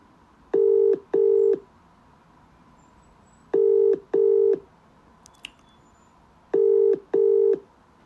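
Telephone ringback tone for an outgoing call, in three close double-pulse rings spaced about three seconds apart, loud and clear with a faint click between them and no talk.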